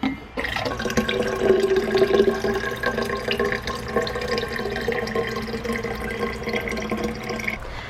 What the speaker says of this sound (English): I'm gonna fill up my hydro flask.